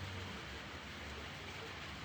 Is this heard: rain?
yes